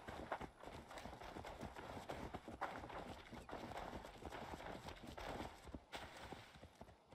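Horse hooves in the video game Assassin's Creed Valhalla clip-clop in a quick, steady galloping rhythm, close and continuous for several seconds, with no talking.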